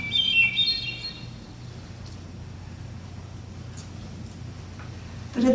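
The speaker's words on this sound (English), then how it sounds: "the haunting song of the hermit thrush" A hermit thrush sings one short, clear, flute-like phrase in a canyon, followed by quiet ambient hiss with faint distant ticks and chirps.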